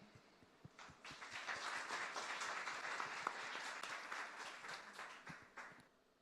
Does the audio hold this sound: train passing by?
no